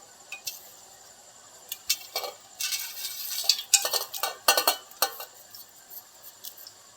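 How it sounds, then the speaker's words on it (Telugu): Whole spices such as cinnamon and cloves go into hot oil for a chicken gravy curry, giving a few soft sizzling bursts and quick metallic stirring clinks against the pan, scattered and irregular, with no talking. "కొంచెం ఆయిల్ హీట్ ఎక్కిందండి ఇవన్నీ ఇందులో వేసేసుకుందాం"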